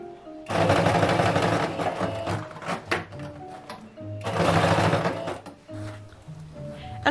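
Sewing machine stitching the lower band of a cosplay officer's hat, two loud sustained runs of rapid mechanical stitching separated by a short pause and quieter handling sounds.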